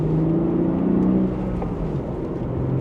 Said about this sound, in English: Just a mild acceleration